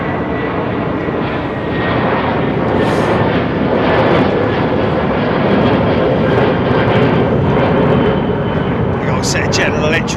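A loud Airbus A330 powered by GE CF6 engines departs Heathrow's runway 09R, its jet roar building steadily and filling the scene, with someone speaking over it.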